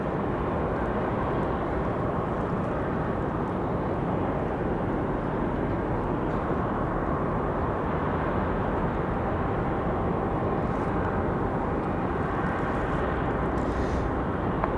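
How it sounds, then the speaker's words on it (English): An American Airlines A321 airliner departs Raleigh-Durham for Charlotte with a steady, broad jet roar. The roar holds at an even loudness throughout, heard from a distance with no voices. "So again, this A321 off to Charlotte."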